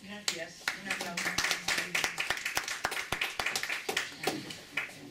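Scattered clapping from a small group follows a public reading of Don Quijote, individual sharp claps rising and thinning unevenly, with voices talking over them.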